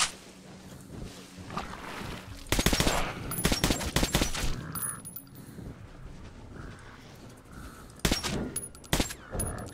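Video game gunfire in Metro Last Light comes as several loud, sharp bursts of shots and metallic impacts as rounds bounce off an enemy, spread across the stretch with quieter gaps and no talking.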